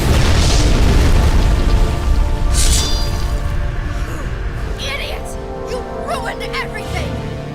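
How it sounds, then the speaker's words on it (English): A loud explosion from Tomb Raider: Legend booms at the start and rumbles on before slowly fading, followed by scattered debris and effect noises at lower level. "It'll explode unless you pull out the sword!"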